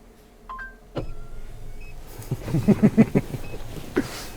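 A motorized fold-away table retracts inside a Mercedes van, a steady electric motor whir with soft clicks and thumps as it moves and settles, fairly close and alone.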